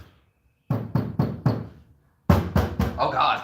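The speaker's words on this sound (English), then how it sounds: "tap on where you put the sound mat on the floor and then tap on a non-sound matted part" Knuckle taps on a car floor, first where a sound-deadening mat is laid and then on a bare, unmatted part: a quick close series of four knocks, a pause, then three or four more, the second group ringing brighter.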